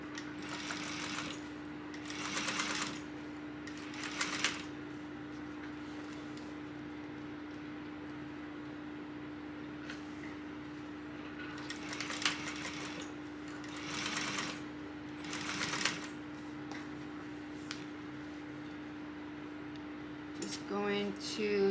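Home sewing machine top stitching along a fabric edge of a tote bag, running in several short bursts of rapid stitching separated by quieter pauses, with a steady motor hum underneath and a final burst at the end; close and moderately quiet.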